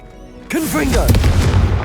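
Confringo, an explosive spell from Hogwarts Legacy, lands as a sudden loud boom and burst that rolls on as a rumbling, crackling tail, with a short vocal shout layered into the blast.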